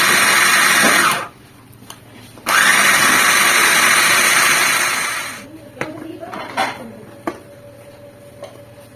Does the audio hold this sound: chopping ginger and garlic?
yes